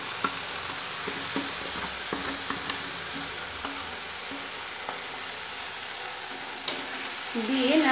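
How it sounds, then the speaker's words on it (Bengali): Mixed spice masala for a jackfruit curry frying in a pan, a steady close sizzle with occasional stirring scrapes and one sharp clink near the end. "দিয়ে নাড়াচাড়া করে একটু কষিয়ে নিব।"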